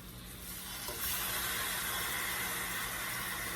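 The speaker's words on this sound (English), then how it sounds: "start hearing that sizzle already." A Berkshire pork chop sizzles in a hot pan, a bright crackling hiss that jumps louder after a second and then holds steady.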